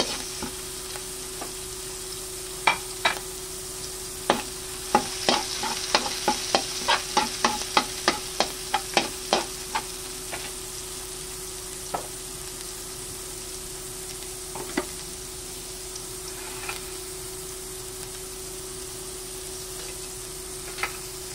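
Garlic and onion fry in a pan with a low steady sizzle while a utensil scrapes and taps the pan, the taps coming in a quick burst and then tapering off to occasional clicks.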